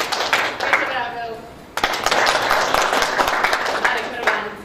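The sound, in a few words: audience applause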